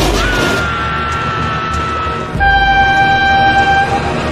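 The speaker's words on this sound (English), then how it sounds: "Oh my god, train!" A cartoon train horn toots in a loud, steady two-tone blast that starts midway and holds for over a second, over a busy, noisy background.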